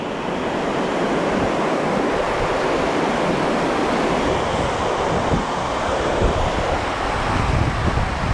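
Waves on open water heard from a paddleboard on the first paddle of the year, a steady broadband wash of surf with heavy wind buffeting the microphone throughout, loud and continuous with no voices.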